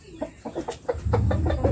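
A native rooster in a backyard clucks in a quick series of short, close calls, and a steady low rumble builds up beneath the later clucks.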